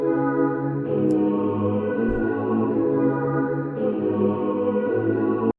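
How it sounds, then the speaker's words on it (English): A synth pad layered with doubler and reverb effects in FL Studio holds sustained, lush chords that shift twice, smooth and wide, playing alone without voices. "So let's hear this pad sound by itself."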